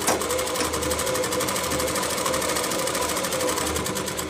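A sewing machine stitches a Rajputi suit kurti, running steadily and loudly with a fast, even mechanical whir and rhythmic needle clatter, close by with no voices.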